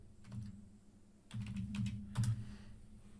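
Fingers tap keys on a computer keyboard while entering a zip code, a quick run of close, crisp clicks in two bursts separated by a brief pause, with no voices.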